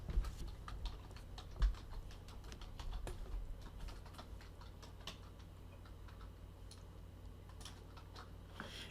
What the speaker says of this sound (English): And then once you type that in,